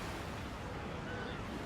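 Steady rushing gusty wind buffets the microphone at the Henley Royal Regatta rowing semi-finals, a constant broadband roar with no clear pauses, sounding close and fairly loud.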